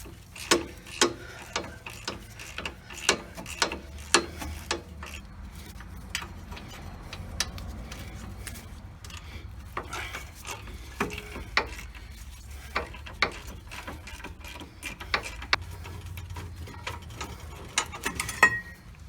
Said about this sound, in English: using a 18mm socket, go ahead and remove the two bolts that are holding the mounting bracket